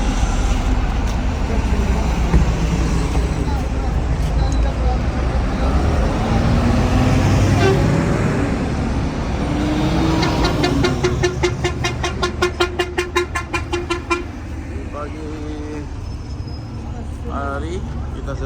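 Congested Hajj traffic with buses and cars stuck on the road toward Arafah, engines rumbling and a run of rapid horn blasts standing out, with people talking over the din.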